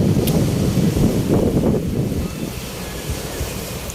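Steady rushing surf with wind noise at a beach in Bato, south Cebu, a continuous roar of waves close by with some gusty buffeting on the microphone.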